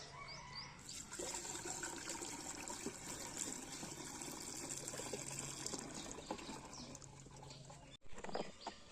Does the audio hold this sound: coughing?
no